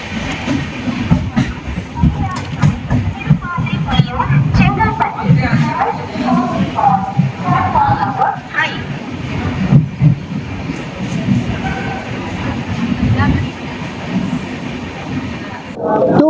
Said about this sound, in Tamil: அமிர்த் பாரத் எக்ஸ்பிரஸ் உள்ளே வந்துக்கிட்டு இருக்குங்க.